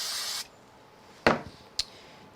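Spray glue hissing onto a greetings card, a steady close spray for about half a second, then two short sharp taps or bumps on the work surface.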